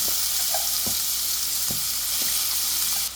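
Finely chopped large onion frying in a pan for soya chunks masala, a strong steady hiss with a few scattered stirring clicks, close and continuous, easing slightly at the end.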